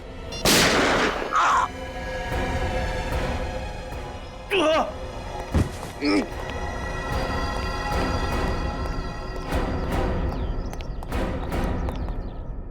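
A sharp, loud bang cuts through a tense scene, followed by scattered thuds and movement with voices talking underneath.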